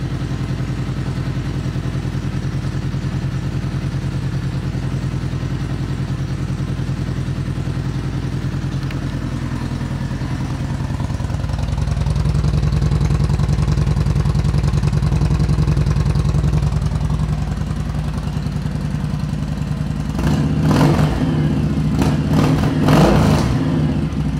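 A 2011 Kawasaki Vulcan Vaquero 1700 cruiser motorcycle with Vance and Hines pipes rumbles steadily at idle, grows a little louder midway, then a few sharp throttle blips rev up near the end.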